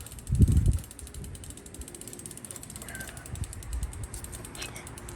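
A crank extractor tool is turned by hand to pull the crank off a Truvativ/FSA ISIS Drive bottom bracket, giving a quiet run of mechanical ratcheting clicks and creaks with a heavier clunk near the start, close up and with no talk.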